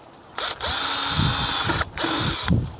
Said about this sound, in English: We may actually have to drill a hole through here for the bamboo to go through